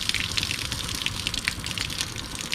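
Warm water sprays steadily from the shower head of a portable camping water heater, a close, continuous hissing patter of droplets with no pauses and no talking.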